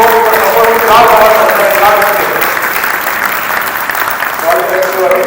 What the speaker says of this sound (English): bigger round of applause to show our support